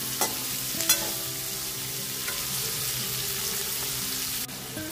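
Chopped onions sautéing in oil in a pan, a steady soft sizzle with occasional stirring scrapes and clinks, close and continuous with no talking.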